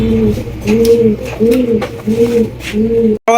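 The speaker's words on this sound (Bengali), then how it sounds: "চমৎকার বিশাল বড় সাইজের পটার কবুতর" Large pouter pigeons coo in a farm setting, a regular run of about five deep, rounded coos close by, with someone talking over them.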